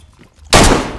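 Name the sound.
gunshot in the video game DayZ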